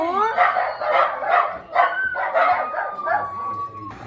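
Two household dogs bark and yip excitedly, a rapid series of close, high yelping barks mixed with a drawn-out howling whine.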